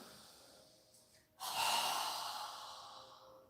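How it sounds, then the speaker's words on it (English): A single strong exhale through a wide-open mouth during a home yoga and breathing session: a soft intake, then a long breathy whoosh that starts loud and slowly fades, heard close and alone. "we're going to exhale with our mouth open wide with a strong exhale"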